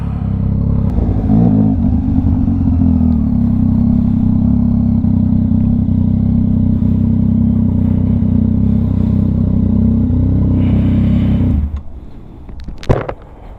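A 2022 Yamaha XSR900 with a VCYCLENUT tune idles with a loud, steady engine drone, then rides off as the sound drops away, leaving a few brief clatters.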